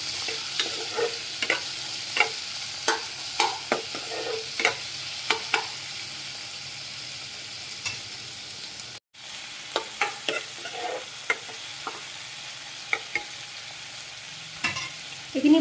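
Pork pieces and small tomatoes from the market fried together in a pan, a constant low sizzle punctuated by regular sharp taps and scrapes of a spatula stirring, close and without talk.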